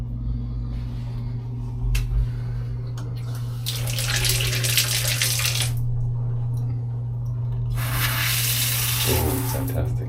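Warm water runs from a tap in two loud bursts of hissing flow, with a steady low hum underneath throughout and quieter gaps between the bursts.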